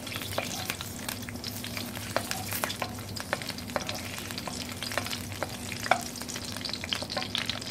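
Salami and hot chili peppers frying in oil in a pan, a close, continuous crackling sizzle dotted with sharp pops and spits, with no voices over it.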